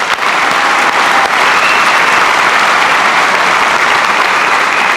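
Loud, sustained applause from a crowd at a political event welcomes Ohio Republican Party chairman Matt Borges during a special announcement with Ohio Gov. John Kasich, a dense, steady wash of clapping throughout.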